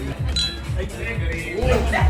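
Cocktail glasses clink in a toast among a group, with bright ringing taps that rise over lively talk close by.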